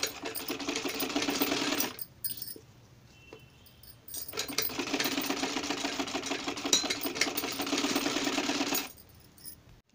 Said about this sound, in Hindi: पहले सीधी सिलाई लगाएंगे।